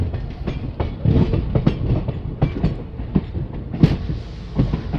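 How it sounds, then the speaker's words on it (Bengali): A Patna–Puri special train rolling into Jasidih Junction, loud rhythmic clickety-clack of wheels over rail joints with repeated clunks from the carriages, heard up close and without talk. "দুপুর প্রায় 2টোর সময় আমাদের ট্রেন এসে পৌঁছালো জাসিডি জংশন"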